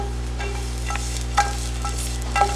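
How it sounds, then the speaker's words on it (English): A spoon stirs garlic and sauce garnish in a hot pan over a steady low sizzle, with a couple of soft scraping strokes against the pan. "I'm pre-cooking this garnish only because we want to lightly brown the garlic"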